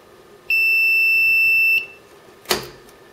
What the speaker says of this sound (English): you'll get a warning beep, as well as an indicator on the front there.